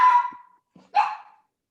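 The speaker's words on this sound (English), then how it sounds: "Speaking of barking dog." Two sharp barks from a single dog, close and loud, separated by a short pause, with silence around them.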